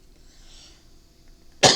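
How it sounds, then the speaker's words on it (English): A single sharp, loud cough bursts out at the very end after near silence, close to the microphone in a quiet home setting. "Sorry about the coughing."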